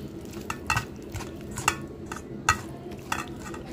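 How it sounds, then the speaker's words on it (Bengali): Spices are worked by hand into small fish in a metal cooking pot, giving a series of irregular clinks, scrapes and squelchy stirring sounds, close and moderately loud. "এখন আমি এটা সুন্দর করে মাখিয়ে নিতেছি"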